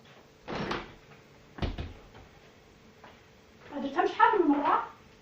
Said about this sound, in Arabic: استسمح نحل الباب